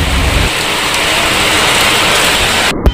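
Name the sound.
heavy rain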